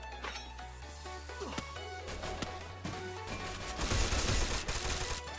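Rapid shotgun blasts and gunfire ring out during a Free Fire match, a dense run of sharp shots over steady game music that grows louder and busier toward the end.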